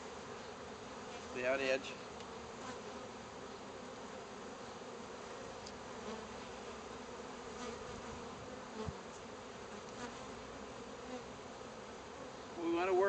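Honey bees on a frame of pollen and honey hum in a dense, continuous buzz close by, with a few louder individual passes. A faint voice speaks briefly.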